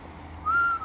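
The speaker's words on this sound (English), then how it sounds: "I was meant to whistle, but it didn't come out that way." A man tries to whistle, and a brief, thin, breathy tone comes out partway through, faint and short against a quiet background.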